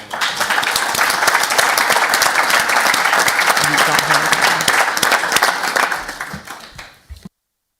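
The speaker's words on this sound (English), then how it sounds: "I do think that we should give a nice round of applause" Council members in a chamber give a sustained round of applause for New Year's Honours recipients, dense steady clapping that stays loud throughout, then thins out and fades to a few last claps.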